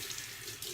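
Warm water runs steadily from a tap onto a face towel, a soft continuous splash and hiss, brief and fairly quiet.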